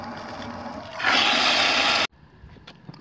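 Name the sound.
sink filling with water for soaking griddle plate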